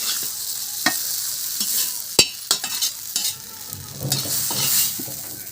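Onion paste frying in a pan while being stirred, steady sizzle with intermittent scraping clicks and clatter of the spoon against the pan, no voices.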